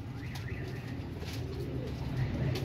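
Royal Teddy pigeons, a breeder pair, cooing softly in a loft with a low, continuous murmur of coos and faint chirps over steady background noise.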